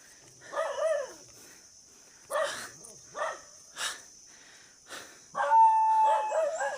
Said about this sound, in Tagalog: grabe rin yung pag-iingay ng mga aso